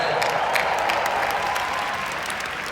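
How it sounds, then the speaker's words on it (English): Audience applause for Michael Jordan, a steady, dense roar of clapping from a large crowd that holds at full strength before easing slightly, with no voices standing out. "Let's clap for that."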